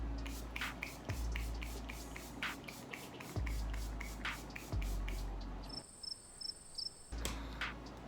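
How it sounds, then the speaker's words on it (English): A face setting spray misted after finishing makeup, heard as a steady series of short, close, hissing pumps in an even rhythm over a constant background hum. "I'm just gonna spray my face."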